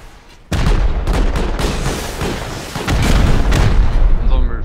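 A sudden loud blast from a rocket explosion in Rust kicks off a sustained roar of booms and crackling gunfire, with a few sharp impacts layered over dense noise.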